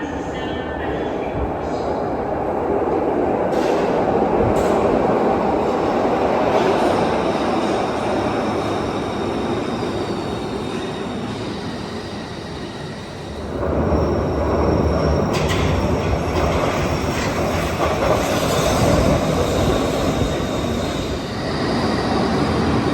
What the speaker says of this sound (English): this miniature subway that runs in a giant circle through downtown Glasgow